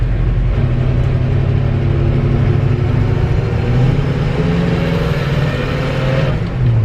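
Engine of a 1963 Chevy C30 truck revving under load while the worn clutch slips, a loud close roar with pitch climbing gradually as revs build, continuous and unbroken.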